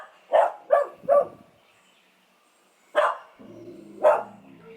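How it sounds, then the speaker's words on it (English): Dog barking at the neighbours: three sharp barks in quick succession, a pause, then two more barks, close and loud, with a low whine or growl between the last two. "We don't bark at the neighbors like that, Ruby."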